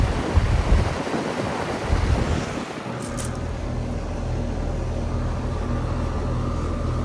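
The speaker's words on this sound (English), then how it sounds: "There's the fan motor." Outdoor fan motor of a 2014 Trane XR15 4-ton heat pump running, a steady whooshing hum with a low motor drone, buffeted by wind noise at first, then settling into an even whir.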